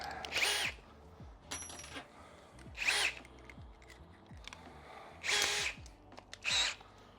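Power drill boring holes into stucco while a bird feeder is installed, four short high-pitched whirring bursts, each under a second, separated by quiet pauses with small clicks and handling sounds, close and alone.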